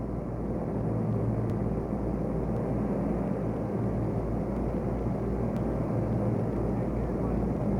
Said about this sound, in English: kicks over growling diesel motors to head for the marlin grounds offshore